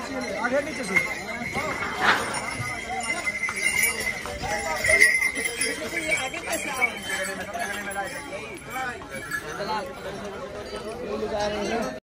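Horses' hooves clop on a bridge along the Kedarnath trek, shared by horses and walkers after floods washed another crossing away; a steady run of hoofbeats sounds amid busy crowd chatter and animal noises.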